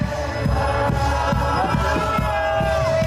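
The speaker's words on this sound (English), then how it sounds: "A huge crowd of proud Christians worshiping outside the Houses of Parliament today" A large crowd of Christians gathered outside the Houses of Parliament in London, chanting together in worship, a steady dense mass of voices with rhythmic rising calls, loud and close throughout.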